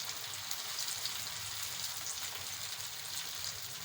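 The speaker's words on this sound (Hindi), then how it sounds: "हमें इसे शैलो फ्राई करना है" Vegetable pakora balls shallow frying in rather hot oil, a soft, even, continuous bubbling sizzle close by with fine crackles and no talking.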